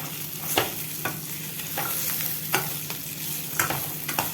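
Onion and garlic sauté in a spiced masala for a vegetable curry, giving a continuous sizzle under repeated spoon scrapes and taps against the pan, with no speech.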